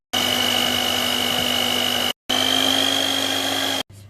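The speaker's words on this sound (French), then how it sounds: "on ajoute le beurre de cacahuète et l'huile de coco qui ont fondu. Et ensuite, on va mixer." A blender whirs through a batter of melted peanut butter and coconut oil in two loud, steady bursts of about two seconds each, separated by a short pause, with no talking.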